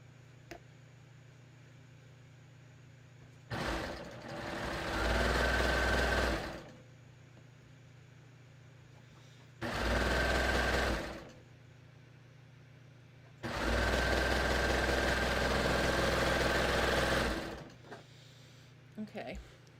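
A serger runs along a tee shirt seam in three loud, whirring bursts of rapid stitching, each a few seconds long, separated by quiet pauses with a low hum.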